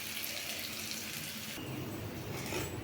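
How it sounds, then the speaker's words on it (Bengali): Water pours into a pan of fried onions, a continuous rushing splash that shifts in tone midway as it fills, close and steady with no voices. "পেঁয়াজটাকে ভেজে নিয়ে এর মধ্যে আমি অল্প করে জল দেব।"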